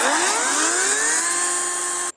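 Chainsaw fitted with a new chain cutting through a sizeable tree: a loud, steady high-pitched engine whine with a rising pitch, running continuously alone before cutting off abruptly.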